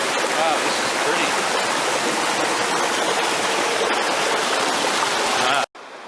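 A river rushes along the Wildcat River Trail in the White Mountains, a loud, steady broadband roar of flowing water close by that cuts off abruptly near the end.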